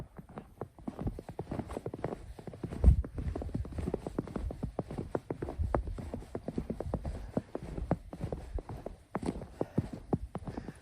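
Footsteps crunch and squeak on about 1.5 inches of fresh powder snow, a steady walking rhythm of close, crisp steps that goes on for about ten seconds with no talk.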